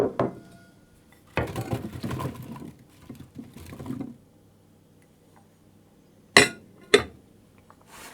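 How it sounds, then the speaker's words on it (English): Apples for an apple and maple syrup cobbler dropped into a cooking pan, with several bursts of rattling, knocking pieces and two sharp clinks near the end, close and separated by quiet gaps. "I'm going to put them into a pan"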